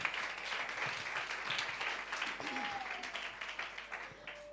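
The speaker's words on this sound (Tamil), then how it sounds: "பிள்ளைகளுக்காக இன்னொரு வாட்டி கைத்தட்டி உற்சாகப்படுத்தலாம்" Applause for the children at a church Vacation Bible School celebration, steady crowd clapping at moderate volume for several seconds with a brief whistle-like tone and faint voices mixed in.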